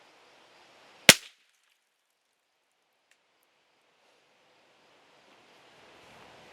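A single CCI Standard Velocity .22LR round fires and strikes plaster, one sharp, sudden crack followed by near silence with faint wind-like hiss, no voices.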